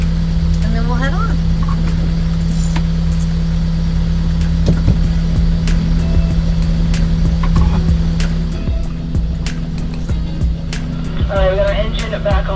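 Motorboat engine drones loud and steady while the boat circles near an island, a constant low hum with shifting wash and wind noise, brief voices appearing at moments.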